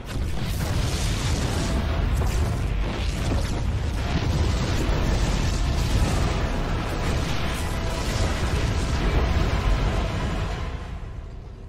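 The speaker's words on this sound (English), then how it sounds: "The explosions have stopped." Loud, sustained booms and rumbling blasts from a StarCraft II: Heart of the Swarm cutscene aboard a Protoss ship, continuous for several seconds with no talk, then tapering off at the end.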